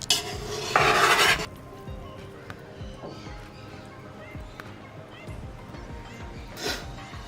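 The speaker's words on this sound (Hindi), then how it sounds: "अब हम इसको अच्छे से मिक्स कर लेंगे।" Macaroni being mixed with sauces in a pot, heard as a loud scraping stir at the start followed by softer clinks and scrapes of a utensil against the pan, with a faint sizzle underneath.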